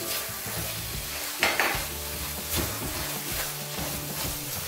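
Butter being stirred into pineapple filling cooking in a pan for nastar cookies, with a steady soft sizzle and scraping strokes of a spoon or spatula against the pan.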